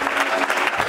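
A church congregation breaking into applause during a deliverance service, a dense burst of clapping that fills the whole brief moment, loud and close, with some voices mixed in.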